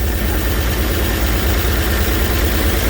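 A 1949 Chevy engine runs loud and close during a cold start, holding a steady, rough idle without pause for the whole stretch, with no talk.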